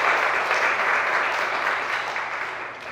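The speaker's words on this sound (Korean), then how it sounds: "박수 한번 올립시다." Church congregation applauding in a loud, dense wash of clapping that holds steady, then gradually thins toward the end, with no voices over it.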